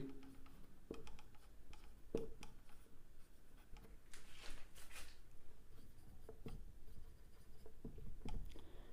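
Steady scratchy chalk or pen strokes of a maths theorem on triangle angles being written out, a run of short rubbing strokes and light taps at close range with no talking.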